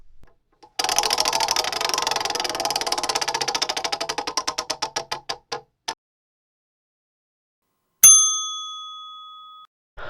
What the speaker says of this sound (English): I put them down on the spin wheel and let's see what it randomly picks